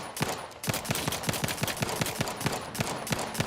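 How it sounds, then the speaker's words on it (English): Gunfire in The Outer Worlds 2 video game, a steady rapid string of sharp automatic shots, roughly a dozen evenly spaced cracks, fairly close and alone without talk. "Who's shooting at me?"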